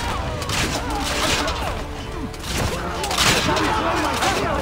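Gunfire and cannon blasts in Assassin's Creed: Revelations, a busy spread of booms and bangs over continuous game noise, with voices and speech-like sounds mixed in throughout.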